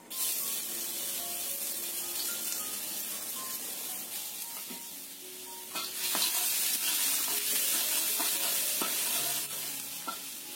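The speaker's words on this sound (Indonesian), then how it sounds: "Kita panaskan 3 sendok makan minyak untuk menumis bawang putihnya sampai tercium bau enak." Garlic sautés in three tablespoons of hot oil, giving a steady close sizzle with occasional stirring clinks, and the frying hiss swells louder partway through.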